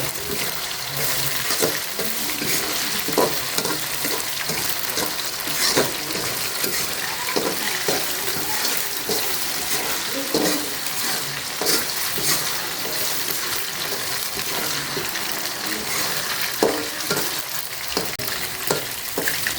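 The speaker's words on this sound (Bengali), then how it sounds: "এটাকে আমি 2-3 মিনিট ভাজবো। এটা হালকা একটু বাদামি কালার হলে ভাজাটা, তারপর আমি মাংসটাকে নামিয়ে রেখে দিব।" Meat fries in a pan until lightly browned, giving a steady, close sizzle with scattered spatula scrapes and light clinks throughout, no voices.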